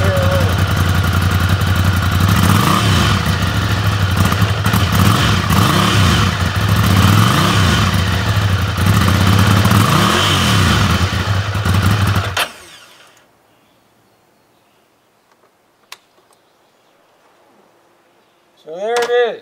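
A Ducati Monster 796 motorcycle's L-twin engine idles and revs loudly up close for about twelve seconds, rising and falling in pitch, then cuts to near silence before a brief sharp sound.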